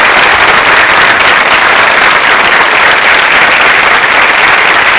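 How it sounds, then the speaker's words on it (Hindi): Loud, sustained applause from a studio audience at a televised quiz show celebrating an anniversary, dense clapping filling the whole stretch without a break. "अगर हैं संकल्पित आप तो बजाइए जोरदार तालियां दूरदर्शन"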